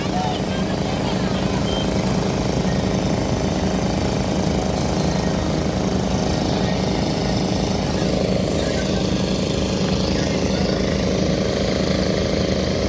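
Steady heavy machinery roar with rapid rhythmic pounding as a pile driver hammers posts into the Pasig River nearby, continuous throughout with some background voices.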